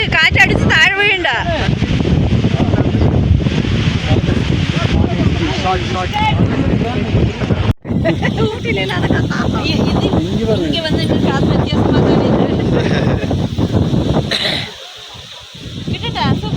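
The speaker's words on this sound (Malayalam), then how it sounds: "നല്ല കാറ്റ്, കാറ്റടിച്ച് താഴെ വീഴണ്ട." Strong wind buffets the microphone at a high mountain viewpoint in the Nilgiris, a loud continuous rushing roar with brief dips, heard under people chatting nearby.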